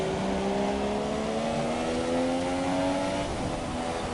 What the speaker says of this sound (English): You hear the lean engine revs